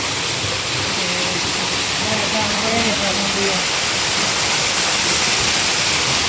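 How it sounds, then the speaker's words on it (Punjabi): Waterfall in Kullu Manali roaring as a dense, constant rush of falling water, loud and close throughout, with a voice briefly talking underneath partway through. "ਅਸੀਂ ਪਹੁੰਚ ਗਏ ਝਰਨੇ ਤੇ ਜਿਉਂ ਤੁਹਾਨੂੰ ਦਿਖਾਉਂਦੇ ਆ ਝਰਨਾ"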